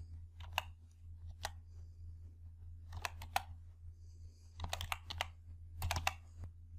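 Bursts of computer keyboard typing while entering text into an Excel spreadsheet formula, quiet clusters of key clicks separated by pauses over a steady low hum, no voices.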